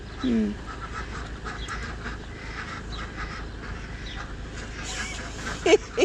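Drakes quack in a few short, scattered calls in a backyard duck-keeping setting, fairly faint beneath a low outdoor background.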